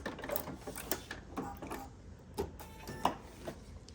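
A sewing machine running in short stitching bursts as it back tacks, then a sharp click of the thread cutter near the end, close and fairly quiet with no talking.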